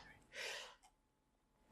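A man sneezes once, a short breathy burst near the start followed by a loud abrupt burst at the very end, close to the microphone with silence in between.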